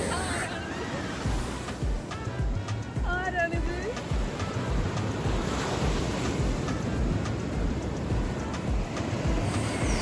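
Sea waves wash in at a beach under gusty wind, a steady roaring surf heard up close. A person talks over the noise of the water.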